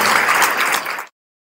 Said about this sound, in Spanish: les pido un enorme aplauso para este doctor